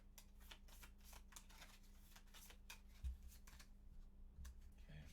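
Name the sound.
shuffling a deck of cards for a board game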